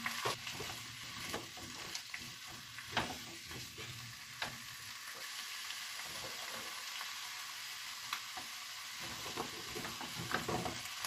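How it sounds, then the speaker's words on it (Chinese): Winter melon and tofu puffs stir-fry in a hot pan with a continuous crackling sizzle, punctuated by repeated scraping and tossing strokes of a spatula, heard alone without voices. "将啲冬瓜同埋豆泡都兜炒均匀。"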